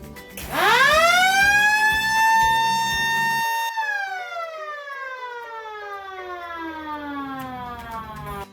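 A programmable factory siren system winds up quickly to a loud steady wail, holds, then spins down with a long falling pitch, an electric motor hum audible near the start.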